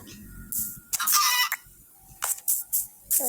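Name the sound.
chicken clucking in a horror video game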